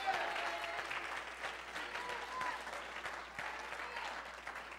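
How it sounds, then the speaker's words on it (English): A church congregation claps hands together in worship, a steady dense patter of many palms with a few sharper individual claps, continuous and fairly distant, with faint voices mixed underneath. "Come on, somebody clap your hands to the Lord."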